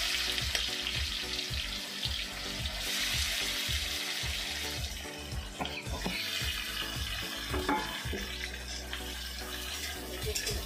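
Onions sizzle and crackle in hot oil with fenugreek seeds, with occasional stirring scrapes in the pan, heard close and fairly quiet without talk.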